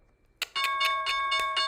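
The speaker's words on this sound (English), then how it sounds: "Opening bell. Here we go." A stock market opening bell rings out in a quick series of about six bright, ringing strikes whose tones sustain and overlap, clear and fairly loud after a brief quiet moment.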